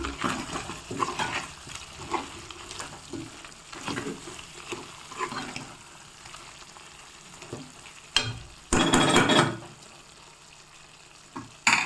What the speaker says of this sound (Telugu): ఇప్పుడు కారం వేసేద్దాం కారం తగినంత వేయండి ఇప్పుడు ఒకసారి తిప్పుకుందాం